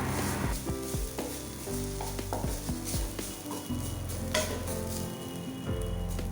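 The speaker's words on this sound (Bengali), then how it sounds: "এখন এই মশলাটাকে আদা কাঁচামরিচের গন্ধটা যাওয়া পর্যন্ত ভেজে নেব।" A spice mix with ginger and green chili fries in a pan for a pea kachori filling, with a steady close sizzle and repeated clinks and scrapes of a spatula stirring throughout.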